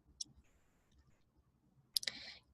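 Quiet computer mouse clicks in a library catalog session: one sharp isolated click early on, then a quick double click near the end over a near-silent background.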